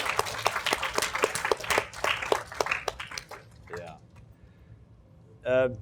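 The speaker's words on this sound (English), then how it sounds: "can you give a round of applause for Dano for successfully doing it?" Talk-series audience clapping for a speaker, a few dozen hands in a brisk, fairly close burst for about three seconds, fading out before a short voice.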